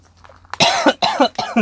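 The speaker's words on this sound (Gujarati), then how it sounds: "ઉધરસ આવે છે" Three harsh coughs in quick succession, close and loud.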